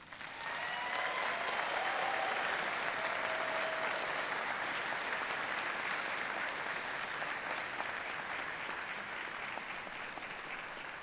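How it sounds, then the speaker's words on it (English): A graduation ceremony crowd gives a rousing round of applause, a dense and steady roar of clapping that holds strong for about eleven seconds before easing slightly. "please raise your hands and give them a rousing round of applause"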